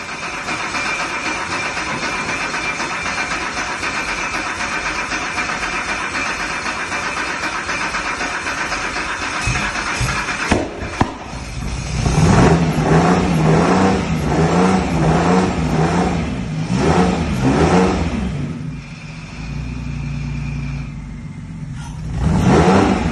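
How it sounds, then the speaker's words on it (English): The engine of a battered, cracked Lykan supercar replica, fitted with new spark plugs, sputters and catches partway through after a long stretch of background noise, then revs loudly in uneven bursts that rise and fall close by. "It fired up, but it threw flames like this out the back."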